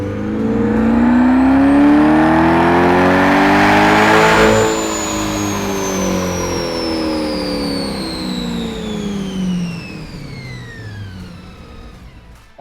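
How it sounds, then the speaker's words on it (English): An orange Procharger-supercharged C8 Corvette roars on a dyno in a dyno cell, the engine revving hard, then sweeping down as the supercharger whine trails off; loud and close with no talk. "this car just put down 595 wheel horsepower on the dyno"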